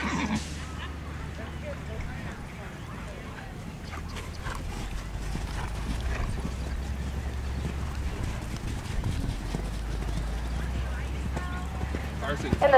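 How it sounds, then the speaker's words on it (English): Horses canter around a show ring during an under-saddle hunter class, with steady rhythmic hoofbeats throughout and voices talking over them, along with faint background activity from the arena. "Riders up to the canter now. A look at the canter, please."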